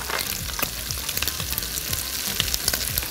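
Mixed vegetables fry with bacon in a pan, crackling and sizzling steadily, with stirring scrapes at intervals, close and moderately loud with no talking.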